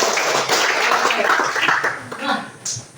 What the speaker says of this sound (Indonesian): kita beri tepuk tangan buat.